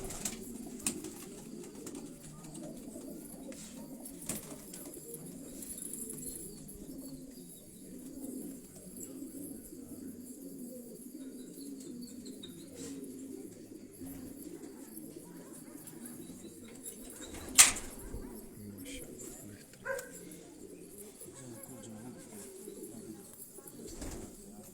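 Soft, steady cooing of racing pigeons in a loft in Quetta murmurs throughout in the low range, with a few faint flutters and sharp clicks in the background.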